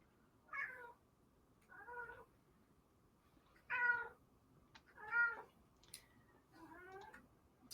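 A cat meows five separate times at a steady, unhurried pace, each cry short and fairly faint against a quiet indoor background.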